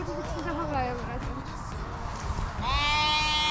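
Sheep bleats, a wavering call early on and a louder, sustained one near the end, over rustling outdoor background.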